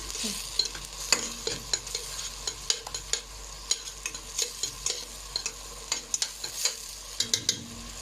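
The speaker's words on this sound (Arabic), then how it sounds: "يا جماعه هنبدا نقلب اهو، نقلب باستمرار اهو." Seafood soup stirred continuously in a pot, with rhythmic scraping strokes of a spoon over a low bubbling sizzle, close and steady throughout.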